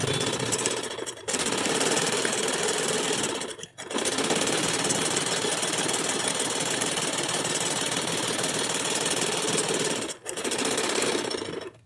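Sewing machine stitching a trouser hem at the bottom opening, with a loud, steady rapid whir in long runs broken by three brief pauses.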